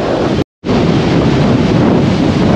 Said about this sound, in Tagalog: Kaya pala ganyan kalakas ang hangin